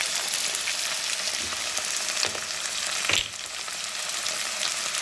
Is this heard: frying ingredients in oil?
yes